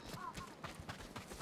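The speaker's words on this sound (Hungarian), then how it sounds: "Itt vannak a lovak" Horse hooves clip-clop in a quick, steady rhythm in the video game Ghost of Tsushima, sounding under game audio with voices in the mix.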